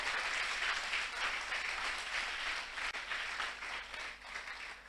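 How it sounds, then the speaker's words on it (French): Congregation applauding during a Sunday church service, a dense, steady wash of clapping from many hands that fills the whole stretch without a break. "Est-ce qu'on peut acclamer cette parole?"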